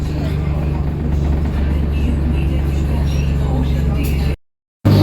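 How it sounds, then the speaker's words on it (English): Route 315 bus operated by Cruisers pulls away from Red Hill bus station, its engine a steady low drone with onboard rumble throughout, heard from inside, ending in a brief dropout. "Just departing Red Hill bus station now."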